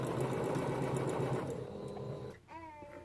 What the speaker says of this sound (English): I wish my sewing machine went faster.